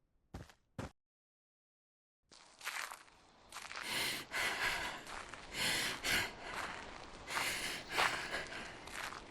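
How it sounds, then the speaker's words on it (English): A character in an indie horror game breathes heavily in ragged, uneven gasps and sighs that sound close and moderately loud, following two brief sharp sounds and a short silence. "Blair's heavy breathing."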